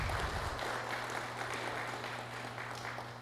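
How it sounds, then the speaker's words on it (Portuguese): Applause from an audience at a book launch event in Brazil, a continuous wash of many hands clapping, fairly steady and moderately distant with a low steady hum beneath. "Uma salva de palmas ao Constantino Caporali"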